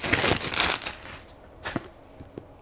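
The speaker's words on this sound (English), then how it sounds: "I think I'll go ahead and unwrap the rest of them and see what they are" Books wrapped in paper being unwrapped, with a loud rustling and crinkling burst at the start, then a few sharper tears and crackles fading out, close by with no talk.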